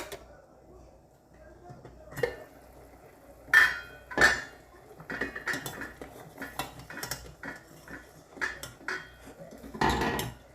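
Cooked chicken is shredded with utensils in a dish, giving irregular clinks, taps and scraping of metal against the dish, with a couple of sharper knocks, heard close and fairly quiet.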